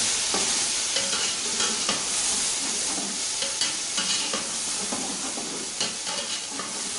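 Chopped tomatoes are stirred into chicken pulao frying in a pot, giving a steady loud sizzle with repeated scraping and stirring clatter throughout, and no talking.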